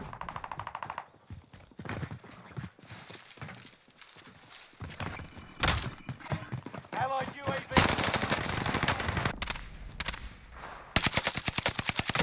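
Gunfire fills a Warzone video game match, with bursts of automatic weapon fire and rapid shots coming in rattling volleys. Players talk over the shooting.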